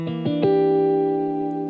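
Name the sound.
guitar minor seven flat five chord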